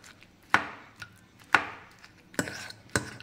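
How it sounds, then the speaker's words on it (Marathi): Hot roasted eggplant crushed with a small stone pestle, four sharp pounding thuds with short decays at irregular intervals, close and clear with no talk. "आता हे वांग मी छोटासा हा बत्ता घेतलेला आहे दगडी, त्याने थोडंसं असं क्रश करून घ्यायचं गरम असतानाच"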